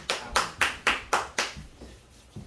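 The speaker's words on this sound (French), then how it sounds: "Acclamons le Seigneur Jésus." A church congregation at a French-language service applauding in rhythmic unison, about five crisp, evenly spaced claps that then taper off, with no talking.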